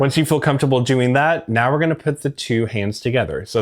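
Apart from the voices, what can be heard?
No everyday noise stands out behind the speech.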